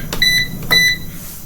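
Two pairs of high electronic beeps from a microwave oven, each pair quick and clear, repeated once with a short pause between.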